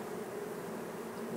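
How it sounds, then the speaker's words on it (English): Honeybees buzz around a comb being shaken off during a hive inspection, a continuous close droning hum at moderate level that holds steady and swells slightly at the end. "I'm just going to shake the bees off of this here"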